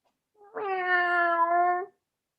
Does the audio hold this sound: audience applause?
no